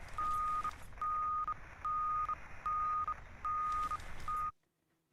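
Treasure detector in the game Deadside beeps in six evenly spaced tones, each about half a second long, then cuts off abruptly into silence.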